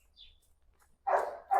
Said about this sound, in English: ignore that dog barking in the background